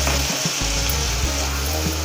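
Prawns sizzle loudly in a pan of melted butter and oil, with a dense, constant hiss and a few sputtering pops, heard close up and alone.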